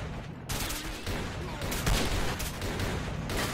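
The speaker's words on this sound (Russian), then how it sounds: "Из ракетомета стреляют, господи." Dense gunfire and rocket launcher blasts in the video game S.T.A.L.K.E.R. Clear Sky, loud and continuous bursts of shots and booms over a noisy battle backdrop, with no clear talking.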